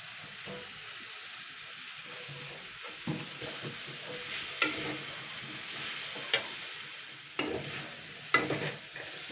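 Banana stem fries lightly in refined oil while a spoon stirs it, a low crackling sizzle with irregular scraping knocks that grow more frequent toward the end, no speech.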